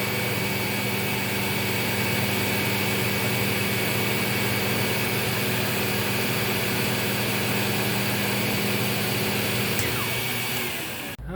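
A Lindhaus Healthcare Pro vacuum cleaner runs with both motors on, a loud, steady, close whirring hum with a tonal whine that cuts off abruptly at the end.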